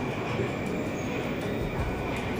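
A Moscow metro train rumbles past on a lower level of a deep multi-level station, a continuous low roar with a faint high whine, holding steady and fairly loud throughout.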